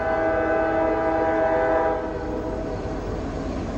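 A six-engine CSX freight train rolls by with its horn sounding, a loud sustained blare over the heavy rumble of the cars that eases slightly partway through, with no talking.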